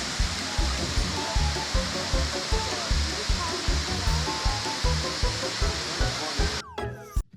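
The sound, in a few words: waterfall at Millaa Millaa Falls, Australia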